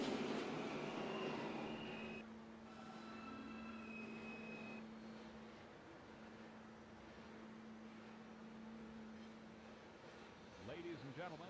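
A New York E subway train idling at a station platform, with a steady low motor hum and faint high whines, quiet and fairly distant, then a brief rattle near the end.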